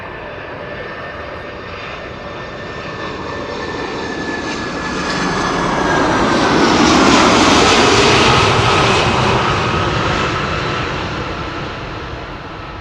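A jet airliner roars past while landing at Amsterdam Schiphol Airport, its engine noise swelling to a loud peak midway and then slowly fading, with no voices.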